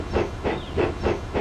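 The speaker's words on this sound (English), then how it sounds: "He just let off steam feebly." A steam locomotive lets off steam feebly, five evenly spaced, close hissing puffs in a steady rhythm.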